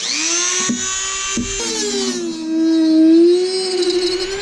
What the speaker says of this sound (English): I'm gonna go ahead and use this Dremel tool.